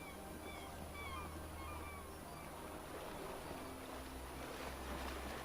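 A cat meows in the video game Eastshade, the calls faint above steady ambient wind and water with a low droning hum, and nobody speaking.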